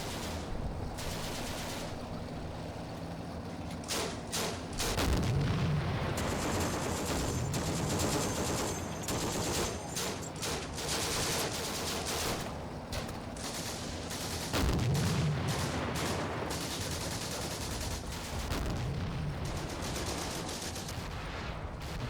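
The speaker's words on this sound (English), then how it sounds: "Oh yeah, the artillery is landing out to the edge of the barbed wire." Artillery shells landing near barbed wire in the Combat Mission: Afrika Korps war game, distant booming blasts mixed with continuous rattling small-arms fire, a dense, steady battle din.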